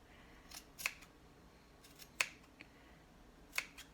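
Several sharp, brief snips of sewing scissors trimming fabric at irregular intervals, crisp and close, with quiet room tone between cuts.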